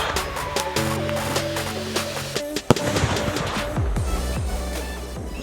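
A sky shot firework is lit and launched: a whistling rise, then one sharp loud bang followed by crackling bursts and fading pops, at close range.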